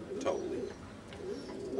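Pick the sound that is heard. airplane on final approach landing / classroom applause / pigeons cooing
pigeons cooing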